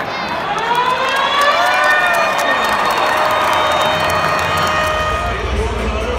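Crowd at a rugby league match between Wests Tigers and South Sydney Rabbitohs cheering and roaring continuously, loud and dense throughout, with shouts and a whistling tone rising above the din.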